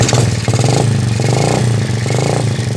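A motorcycle engine runs close by with a rapid, steady idle putter and pulsing rhythm, loud and alone, after work on a fault where oil was not reaching the cylinder head.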